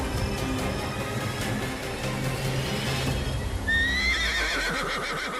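Royal horses neighing over a steady bed of ambient noise, with a louder, high whinny rising near the end; no clear separate hoofbeats stand out beneath it.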